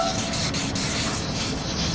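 A rust spot on a car body is wet sanded by hand with 800 grit sandpaper, giving a steady, continuous close rubbing scrape with faint rhythmic strokes, no talking.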